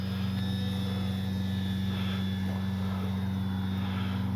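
An E-flite Timber RC airplane on a 3S battery taking off into the wind and flying, with a steady, close electric motor drone and propeller whine holding at a constant pitch throughout.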